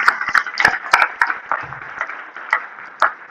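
Conference audience applauding panelists after an information integrity discussion, scattered hand claps, sparse and uneven, fading after about three seconds.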